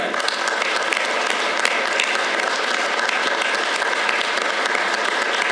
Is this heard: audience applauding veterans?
yes